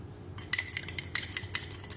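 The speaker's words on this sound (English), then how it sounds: "So I'm gonna mix in some A1 sauce" A utensil works A1 sauce into a steak and mushroom filling in a bowl, giving a quick run of close metallic clinks and scrapes after a brief quiet start.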